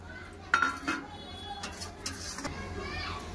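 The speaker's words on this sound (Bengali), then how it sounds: "এবার ভালো করে কষে নেব।" Ground spices including chole masala, black salt, salt and asafoetida are stirred in a pan with sharp metallic clinks of a spoon against the cookware, soft sizzling underneath and children's voices in the background.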